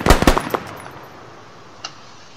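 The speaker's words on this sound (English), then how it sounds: "The M76, which is a Yugoslavian marksman rifle." M76 Yugoslavian marksman rifle firing in a video game, a quick burst of sharp close shots at the start fading into a faint tail, then one faint distant crack.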